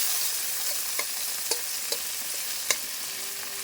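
Tomatoes sauté in a hot pan for pork adobo with a steady, close hiss of sizzling oil, broken by a few sharp clinks and taps as a utensil stirs. No one talks.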